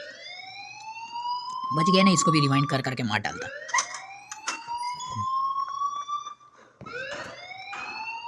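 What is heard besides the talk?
alarm ringing in the video game Life is Strange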